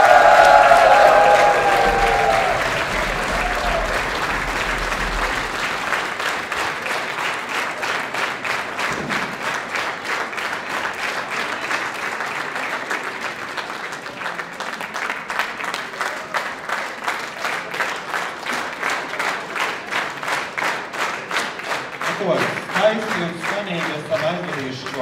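An outdoor choir festival audience applauds a choir conductor, dense sustained clapping from a large crowd that settles into a steadier rhythmic beat, with speech over the start.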